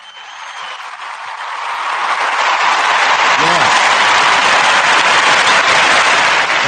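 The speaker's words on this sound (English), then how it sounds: "Let me give her a clap for coming in and blessing us with her presence" An audience breaks into clapping that swells from sparse hands to a loud, dense, continuous roar of applause close by, with a brief voice calling out over it.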